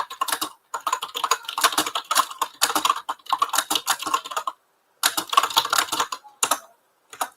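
Quick bursts of clicky typing on a computer keyboard, close and clear, separated by short pauses.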